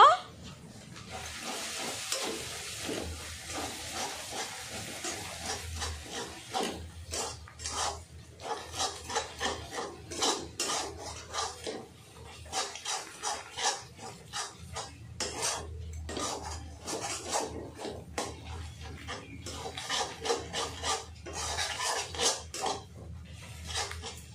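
Small potatoes are stirred with turmeric, Kashmiri red chilli and coriander powder in a pan for dum aloo, giving repeated close metallic scrapes and clinks of a spoon against the pan over a faint sizzle.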